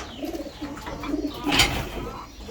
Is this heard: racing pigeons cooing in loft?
yes